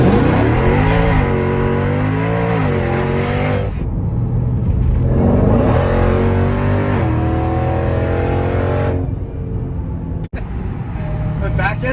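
A Jeep Grand Cherokee Trackhawk with over 1,000 horsepower accelerates hard from inside, its engine revving up through gears in loud rising surges with brief lifts between them.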